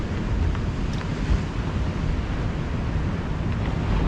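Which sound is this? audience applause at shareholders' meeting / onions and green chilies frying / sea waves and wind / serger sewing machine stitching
sea waves and wind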